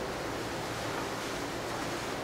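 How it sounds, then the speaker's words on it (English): Strong wind blowing outdoors near a solar-tube digester setup, a steady broadband roar without gusts or breaks, loud and close, with no voices over it. "it is really windy out"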